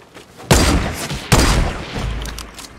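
Gunfire from a sniper rifle in a shooter video game, two loud sharp blasts about a second apart, each with a rumbling tail, heard alone with no talk.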